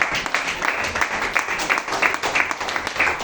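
A church congregation applauds during a Sunday service, a steady dense wash of clapping hands with faint voices mixed in, holding at an even, moderately loud level throughout.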